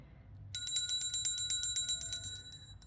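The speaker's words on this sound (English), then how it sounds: "So we have 3 bells here." A small bell rings in a rapid, steady run of bright metallic strikes that starts after a brief quiet moment and continues close and clear until the end, with no one speaking.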